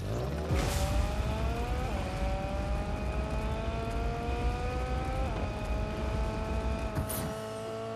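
Engine of a red car driving in Fortnite, a steady loud motor drone with rising pitch sweeps as it shifts gears, running continuously throughout with a brief whoosh near the end.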